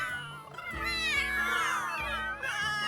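Cats in The Sims 3 let out loud, drawn-out wailing meows that rise and fall and overlap one another, continuous and close for a few seconds.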